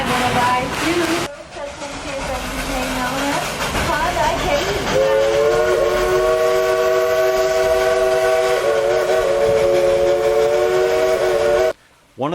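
A Dollywood coal-fired steam train rolls along with chugging and clanking wheels, then sounds a long, loud, steady whistle that sustains for several seconds before cutting off abruptly.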